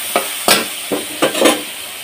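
Spices sautéing in a pan before shrimp and taro greens go in, with a steady sizzle broken by four or five sharp spatula scrapes and stirs, close and fairly loud, no voices.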